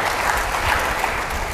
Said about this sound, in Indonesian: Berikan sorak-sorai buat Tuhan Yesus.